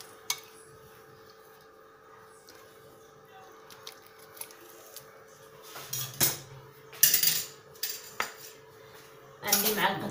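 Knife cutting preserved lemon into chunks on a board while preparing a tangia, with a few sharp, close chopping knocks and scraping clatters near the end after a quiet stretch.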